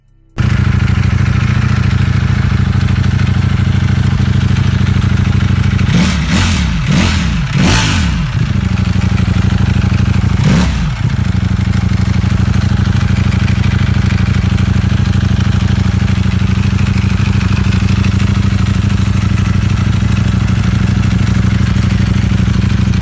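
A Ducati Panigale V4 motorcycle engine rumbles loud and close in a steady, lumpy idle, with a few sharp throttle blips in quick succession and then one more, each dropping back to the pulsing idle.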